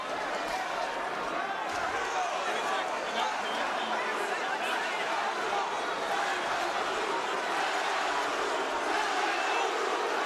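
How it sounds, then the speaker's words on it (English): A boxing arena crowd at the Leo Santa Cruz vs Carl Frampton fight roars in a steady, dense wall of cheering and dueling chants, broad and continuous with commentary mixed in. "Crowd's cheering Santa Cruz."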